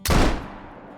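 A single loud .470 rifle shot in a hunting video game, a sharp, booming crack followed by a rumbling tail that fades over the next second.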